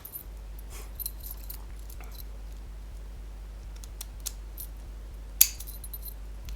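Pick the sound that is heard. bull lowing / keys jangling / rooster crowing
keys jangling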